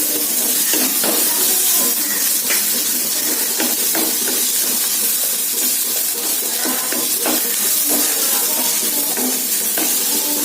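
Garlic fries in hot oil for carrot chutney, a loud, continuous sizzling hiss close by with small crackles, no talking.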